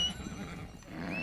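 A horse whinnies in Red Dead Redemption 2, a fairly quiet neigh with low rumbling game ambience underneath and no talking.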